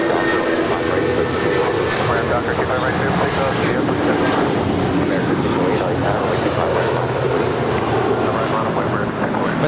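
A Boeing 757-200 jet departs LAX, its engines making a loud, steady broadband roar that runs unbroken through the whole stretch, with faint voices in the background.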